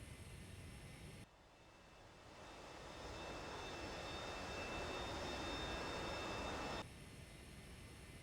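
Steady, loud jet engine roar from an AJS37 Viggen idling after a cold start in the DCS flight simulator, swelling up over several seconds and holding as a continuous whine-laced rumble before dropping back.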